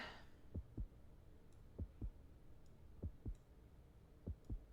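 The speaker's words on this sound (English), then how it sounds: "You should be able to hear a heartbeat sound." A heartbeat effect from the Jackbox Party Pack 4 party game pulses in steady lub-dub pairs, four double thumps about once a second, soft and low over a quiet hum.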